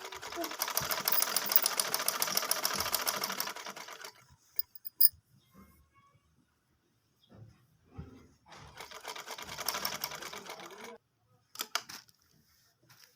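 A sewing machine stitches a flat ban collar onto a shirt neckline, a steady close whirring run of about four seconds, a pause with small handling clicks, then a second shorter run.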